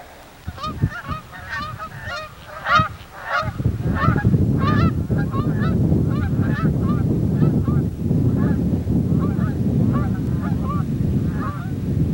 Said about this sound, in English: There's some Canadian geese just through this little pond over here